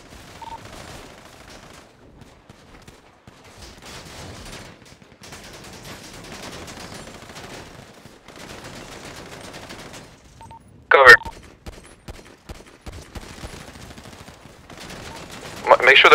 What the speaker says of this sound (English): They're over here, we're getting shot.